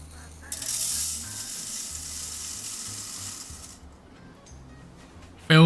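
Dry rice is poured into a sieve set over a large bowl, making a steady granular hiss for about three seconds while a voice speaks underneath.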